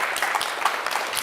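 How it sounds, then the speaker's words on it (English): Audience applause for a panel of speakers at a talk on women, drug policy and the death penalty, a brief steady wash of clapping with scattered sharper claps. "how about a round of applause for all our speakers?"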